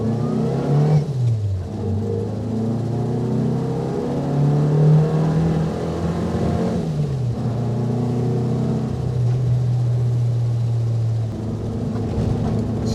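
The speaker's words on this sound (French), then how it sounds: "Ce qui est toujours marrant avec ces voitures-là, c'est que ça vous crie dans les oreilles." A Renault Dauphine 1093 engine revs hard on winding roads, close and loud, with pitch climbing and falling through repeated gear changes in one continuous run, with no talking.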